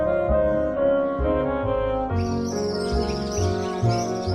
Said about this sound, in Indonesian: Dan induk burung menyanyikan satu lagu yang sangat indah